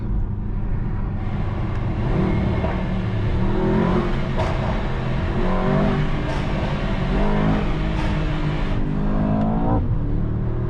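A 2024 Mercedes-AMG S63 V8 sedan accelerating hard in first gear, its engine a loud, steady roar that rises through the revs across the clip, heard from inside the cabin with no talk.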